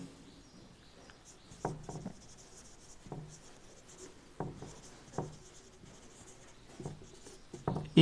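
Chalk or marker writing on a board during a physics lesson, heard as a series of short, crisp scratchy strokes in irregular bursts against a quiet room, with no talk over them.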